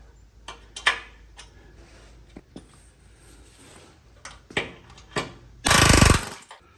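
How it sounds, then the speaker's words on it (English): Scattered sharp metallic taps and knocks on a 1987 Chevrolet 4x4 truck, then a short loud burst of drilling into stuck metal parts near the end, followed by a couple more light punching hits. "I'm gonna drill these a little bit to relieve them and then punch them on out."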